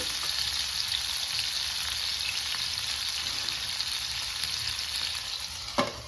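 Chicken frying in a covered pan, a steady, even sizzle that runs unbroken throughout, with one faint clink near the end.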